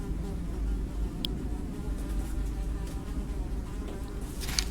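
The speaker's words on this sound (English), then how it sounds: "Despite the buzzing flies" Flies buzz as a sound effect in a game scene, a soft continuous droning hum with a low rumbling ambience beneath it and a brief high click partway through.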